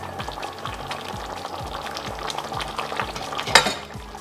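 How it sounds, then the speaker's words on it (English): Roasted tomato soup boils in a pot on the cooker, a steady close bubbling wash punctuated by regular soft low thumps, with one brighter clink near the end and no voices. "Once you brought that to the boil"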